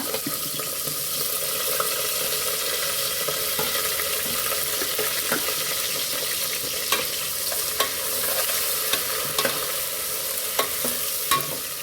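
Onion, green chili and asafoetida frying in oil in a pan for a spiced vegetable khichdi, a continuous even sizzle with intermittent sharp clicks and scrapes of stirring, close and fairly loud, no talking.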